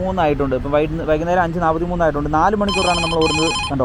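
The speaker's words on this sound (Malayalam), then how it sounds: "ഇതിനൊരു സൗണ്ട് ഉണ്ട് ഒരു റിംഗ് ടൂൺ ഉണ്ട്" Someone talks throughout while a Rapido app ride-request ringtone briefly chimes from a phone near the end, bright and repeating under his voice.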